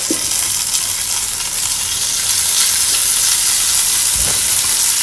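Steady loud sizzling and frying hiss of vermicelli roasting in a clay pot, with faint stirring scrapes, continuous throughout, no voices.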